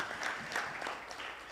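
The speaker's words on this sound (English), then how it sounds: "Another warm applause." Brief, fairly faint applause from an audience at a healthcare quality improvement leadership forum, a steady patter of clapping without voices.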